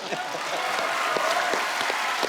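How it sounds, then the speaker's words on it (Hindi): A studio audience on The Kapil Sharma Show claps steadily, a dense patter of applause filling the room with a few sharper claps standing out. "मतलब जोरदार तालियां बनती जरा।"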